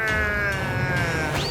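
A cartoon cat in a Tamil-dubbed animated episode lets out a long, drawn-out meow that bends in pitch, loud and close, with no speech over it.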